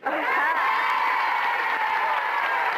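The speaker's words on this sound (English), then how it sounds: "let's give her a big round of applause" A large audience applauds for Mary Kay, chairman of the board of Mary Kay Cosmetics, in 1977, the clapping a steady, even wash with cheering and a sustained tonal hum underneath.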